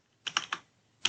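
Brief burst of typing on a computer keyboard while writing HTML code in Visual Studio, four quick crisp close keystrokes, three in a rapid cluster and one after a short pause, with no talking.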